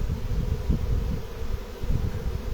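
A swarm of honey bees pours into a baited hive outdoors, a loud, close, continuous buzzing hum that swells and wavers steadily throughout.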